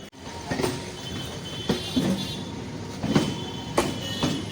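Rumbling train moving along the tracks nearby, with rhythmic clacks of wheels over rail joints and a steady low roar; no speech.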